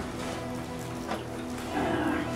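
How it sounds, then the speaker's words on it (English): Steady rain falls on a wet Christmas day, a dense even patter of drops on surfaces, continuous throughout with a slightly heavier patch near the end. "Been raining all day."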